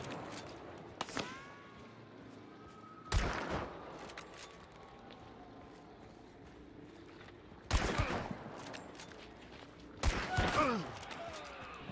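Gunfire in the multiplayer shooter Hunt: Showdown, a few heavy, echoing shot bursts spaced several seconds apart over quieter game ambience, with no talking.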